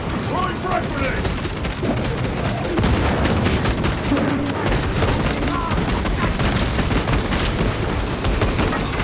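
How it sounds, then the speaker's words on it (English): Frag grenade blasts and heavy gunfire in the Warhammer 40,000 Space Marine 2 video game, a dense, loud barrage of booms and rattling shots that runs without pause for the whole stretch. "Throwing frag grenade!"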